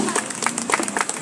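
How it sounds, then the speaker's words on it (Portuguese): A congregation at an outdoor street church service in Fortaleza, Brazil, breaks into a short burst of brisk clapping, a crowd of hands beating fast and fairly close, mixed with faint voices. "Palmas para Jesus."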